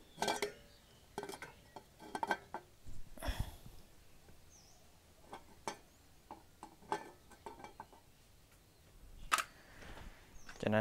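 Sparse clanks and clatters of a frying pan being handled and set down on a stovetop, with quiet pauses between the knocks.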